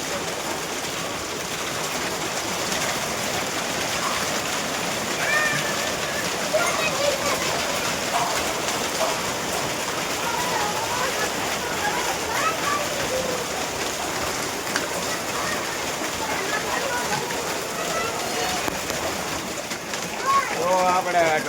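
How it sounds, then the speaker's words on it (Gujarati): Heavy hailstorm pounding down in Rajkot, a dense, steady roar of hail and rain that holds at one level throughout, with a voice talking over it. "બહુ જોરદાર બરફ પડે છે, જોઈ લો."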